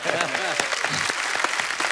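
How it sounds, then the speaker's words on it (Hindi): Dense, steady applause from a crowd, with a voice briefly audible over the clapping. "एक बार जोरदार तालियां हो जाए"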